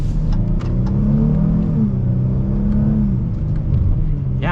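A 2022 Dodge Challenger GT AWD accelerating hard, its engine droning loudly and steadily with rising pitch and abrupt gear shifts, heard from inside the car with no pauses.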